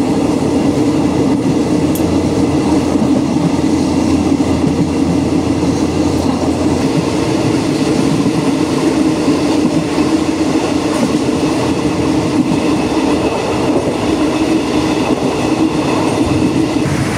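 An old local passenger train in Thailand rolls along its rails with a loud, steady rumble and a rattling carriage, continuous throughout, heard from inside with no talk.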